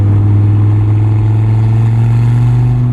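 A 2004 Dodge Viper SRT-10 V10 rumbles loud and close, a deep steady engine drone that climbs slightly in pitch as it revs up.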